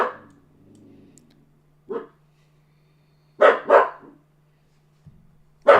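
A dog barks several times indoors, a short single bark followed by a louder double bark and another at the end, separated by silences over a faint steady hum.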